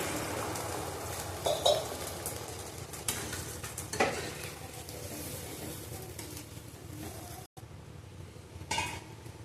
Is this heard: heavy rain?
no